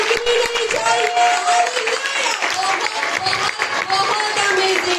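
Applause fills the hall after a children's Christmas show, steady clapping from a crowd under a speaking voice, with a few tonal music notes in the background.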